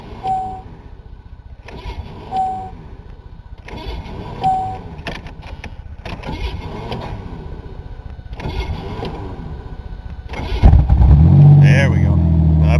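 A car engine with a faulty starter cranks in several separate bursts, each a rough churning whir, before it catches near the end and roars up into a loud, steady run.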